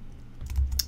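A short burst of typing on a computer keyboard while entering a network address, a few soft, close key taps over a low hum.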